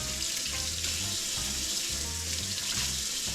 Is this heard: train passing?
no